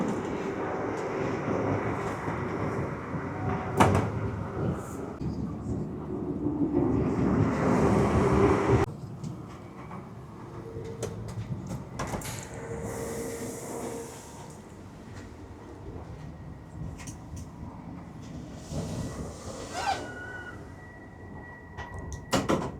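The accessible toilet's powered sliding door on an East Midlands Railway Aurora train opens with a broad whooshing mechanical rush over the steady hum of the carriage, then cuts off sharply, leaving quieter train rumble and faint electronic tones.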